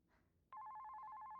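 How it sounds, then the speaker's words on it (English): A telephone in an anime film starts ringing with a steady, rapidly trilling electronic tone, fairly quiet, after a moment of soft background noise. "She's gonna answer the phone."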